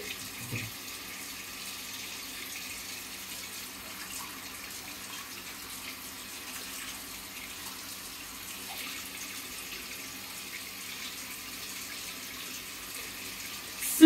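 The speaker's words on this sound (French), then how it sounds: "on ouvre ça très tranquillement. Et voilà, ça fait une petite fontaine." Water flows steadily from a rotating faucet extension set to a fountain spray, a continuous soft splashing hiss close by, with no one talking.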